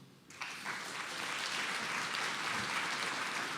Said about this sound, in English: let's give a round of applause to everyone once again